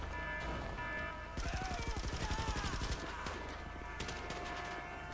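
Video game gunfire: a rapid burst of automatic shots, followed by scattered single shots and short volleys over steady in-game background sound.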